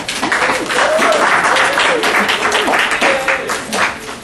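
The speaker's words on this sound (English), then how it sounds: "So please give yourself a round of applause." An audience at a young entrepreneurs' seminar breaks into loud, sustained applause, many hands clapping together in a dense wash. A voice speaks over the clapping throughout.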